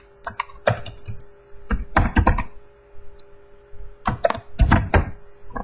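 A SQL join query is typed on a computer keyboard in loud, close bursts of rapid keystrokes. Short pauses separate the flurries.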